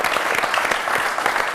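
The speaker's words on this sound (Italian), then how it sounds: "facciamogli un applauso" A television studio audience applauds, a dense, steady burst of clapping that fills the room loudly and evenly for a moment.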